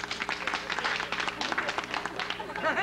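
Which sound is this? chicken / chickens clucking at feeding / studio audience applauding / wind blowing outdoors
studio audience applauding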